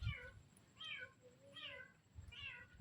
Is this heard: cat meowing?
yes